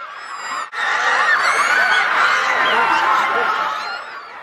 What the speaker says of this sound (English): Now, all this screaming can only mean one thing.